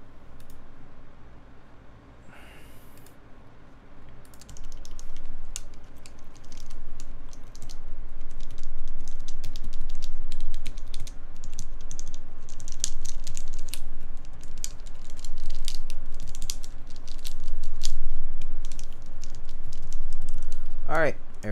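Steady rapid typing on a newly built tenkeyless mechanical keyboard, close-up clacks continuing throughout with a few louder keystrokes, and a person speaking briefly near the start.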